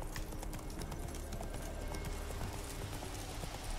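Geralt's horse Roach in The Witcher 3 sounds as a steady run of hoof clip-clops with creaking movement, close and continuous, set in a dense game soundscape with a faint possible whinny.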